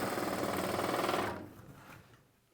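A sewing machine stitches the side seam of a churidar top in a fast, steady, close-up whir that stops after about a second and a half, leaving quieter mechanical sounds.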